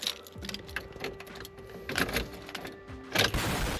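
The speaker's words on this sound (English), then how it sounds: "turns out the fuel pump was still running" A faint, constant electric hum from a Mazda Miata's fuel pump still running, broken by scattered light clicks and small handling noises nearby.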